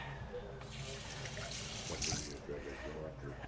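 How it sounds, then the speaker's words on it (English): Hands washed under a running kitchen tap during peach canning, a steady close splash and trickle of water with brief rubbing changes, a voice talking faintly in the background. "Let me wash my hand."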